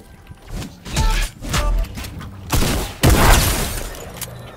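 Tommy gun fire in the Fortnite video game, heard as a few loud bursts with booming low ends, spaced irregularly over a busy background of game noise.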